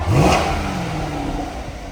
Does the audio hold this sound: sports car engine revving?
yes